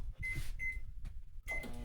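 An old microwave oven hums in quiet, intermittent bursts with a faint steady tone, heard close by in a kitchen while prison fudge is made.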